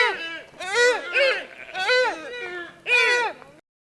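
A deer calls in a series of four nasal, bleat-like cries with short gaps between them, each call rising and falling in pitch, heard close and clear.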